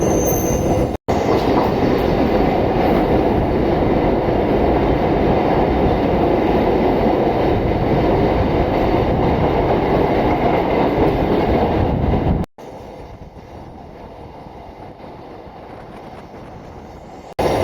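A suburban MRTS train rumbles past loudly on the elevated line between Velachery and Puzhuthivakkam with a steady roar of wheels on rails, cutting off abruptly and then continuing as a quieter hum.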